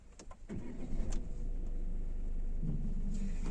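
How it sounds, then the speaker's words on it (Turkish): A 2021 Citroen Berlingo's 1.5 BlueHDi 130 hp diesel engine cranks and catches, then settles into a steady low idle rumble, heard close with no talking. "Bakalım bir motor sesini dinleyelim"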